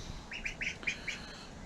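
Birds call from a farm pen where ducks are kept near baby chicks: a quick run of five or six bright chirps, faint against a steady background hiss.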